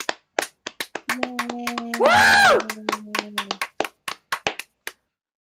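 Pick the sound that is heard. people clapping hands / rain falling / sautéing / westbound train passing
people clapping hands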